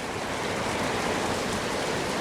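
Steady rain pours down in a dense, even hiss of drops striking surfaces, continuous and moderately faint with no voices.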